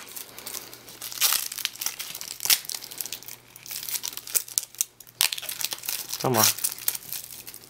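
Plastic packaging crinkles and tears as it is ripped off a new belt with gold LV initials, a series of loud, close crackling bursts with brief speech between them.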